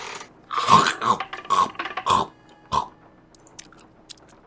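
Wet, squelchy chewing and biting noises from the Nancy Drew Legend of the Crystal Skull video game come in a close, loud series of irregular bursts, trailing off into quieter clicks.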